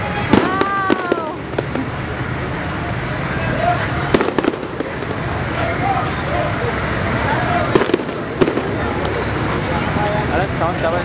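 Fireworks display with a run of sharp bursts and crackles over a steady outdoor crowd murmur, with several louder pops standing out across the scene.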